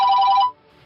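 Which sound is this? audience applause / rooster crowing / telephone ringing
telephone ringing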